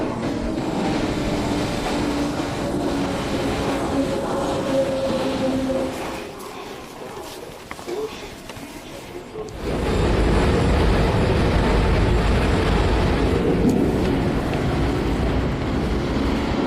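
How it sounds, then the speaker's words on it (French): A subway train on the Yekaterinburg metro rumbles steadily with a low, continuous roar, dipping briefly before surging louder again as it runs along the track, with faint voices underneath. "Je vais maintenant faire un tour dans le métro d'Yekaterinbourg."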